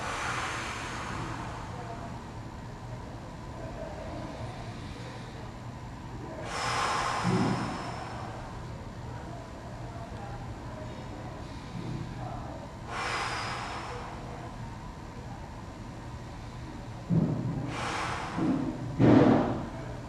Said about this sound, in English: Inhale, exhale, and inhale again, and exhale.